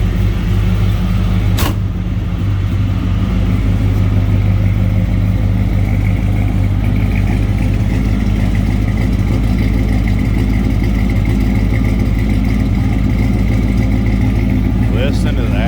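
A 1955 Chevrolet Bel Air restomod engine idles with a steady, deep rumble throughout, loud and close, with a brief click near the start.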